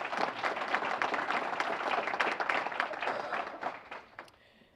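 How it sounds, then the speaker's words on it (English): An audience claps at a Black History Month awards dinner, dense applause holding steady before fading out toward the end. "Now that deserves a round of applause."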